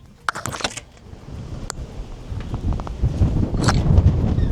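Wind gusts buffet the open air on a cruise ship's open deck, rising into a steady rumbling roar, with a few clanks and handling knocks near the start.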